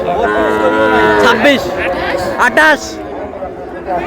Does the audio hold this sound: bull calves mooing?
yes